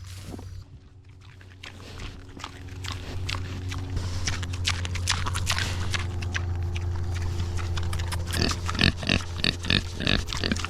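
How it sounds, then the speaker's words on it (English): Pigs on a farm grunt, oink and chew noisily at evening feeding time, close and continuous, with rhythmic lip-smacking and munching over a low steady hum. "Let's go feed the pigs."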